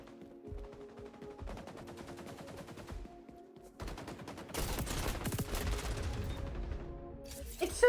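Assault rifle and SMG fire in Battlefield 5 rattles in rapid automatic bursts, quieter at first and then louder and denser, with music tones underneath.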